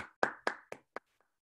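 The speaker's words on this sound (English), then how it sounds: "give a round of applause here" A few slow, separate hand claps, sharp and close, fading out after about five.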